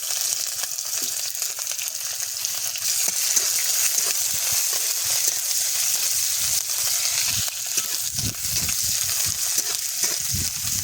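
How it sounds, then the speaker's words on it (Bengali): Chopped onions frying in hot oil with bay leaf and whole spices, a loud, close, continuous sizzle with rhythmic stirring and scraping against the pan throughout, no talking. "এবার পেঁয়াজগুলো দিয়ে দিচ্ছি।"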